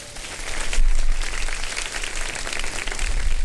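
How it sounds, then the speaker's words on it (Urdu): Studio audience applause on a Ramadan iftar TV show, dense and steady clapping filling the whole stretch, swelling slightly early on and staying loud throughout with no voices over it. "چاہتا ہوں دل کھول کر ان کے لیے تالیاں بجائیں"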